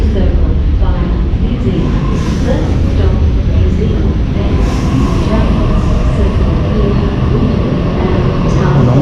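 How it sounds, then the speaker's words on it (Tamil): A loud, steady rumble of a train rolling into a station in Sydney, Australia, fills the scene, with a voice speaking over the constant rail noise. "ட்ரெயின் இங்கே வந்துடுச்சு"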